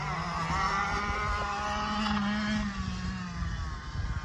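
A CR125 and an 85 two-stroke dirt bike racing on a motocross track, a high buzzing engine whine held steady then shifting pitch as the throttle winds out, fairly loud with no talk.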